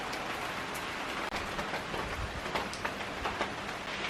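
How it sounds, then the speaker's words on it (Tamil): Rain falling during a rainy evening, a soft, steady broadband hiss with scattered faint taps and drips, continuous and moderately distant, with no talk. "ஆஹா, மழை பாருங்க"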